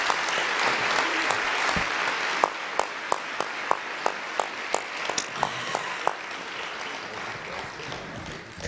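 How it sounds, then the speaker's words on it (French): A seated audience applauds at a talk with comic artist Enki Bilal, broad continuous clapping that builds into a run of sharp rhythmic unison claps around the middle before settling back into scattered applause. "Applaudissons"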